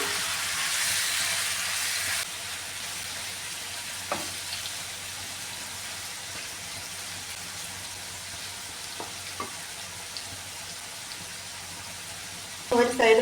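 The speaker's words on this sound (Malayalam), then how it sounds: "ഇനി ഇതൊന്ന് ഫ്രൈ ചെയ്തെടുക്കാമേ" Chicken pieces fry in sesame oil with a steady, close hiss of sizzling that starts louder and settles, broken by a few brief knocks and a clatter at the end.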